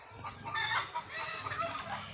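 Hens and small chicks cluck and peep softly close by in a brief, faint burst of overlapping calls.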